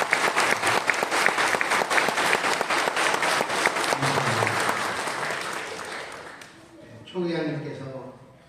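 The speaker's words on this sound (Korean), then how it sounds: "저희들이 다시 한번 박수 한번 합시다" A church congregation bursts into loud, sustained applause that fills the room, then tapers off and fades, with a voice beginning to speak as the clapping dies away.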